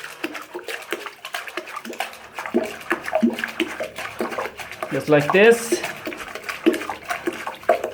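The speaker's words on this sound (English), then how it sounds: "we can try to pump out the water" Water is pumped out of an emptied toilet bowl with a hand pump, producing repeated sloshing, gurgling splashes close by while a person talks over them.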